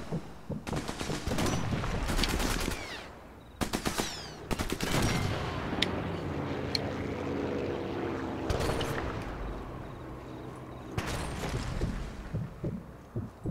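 Several loud, sharp rifle shots in Sniper Elite 4 on San Celini Island, each a distinct crack with a decaying tail, fired singly and in short clusters with gaps between.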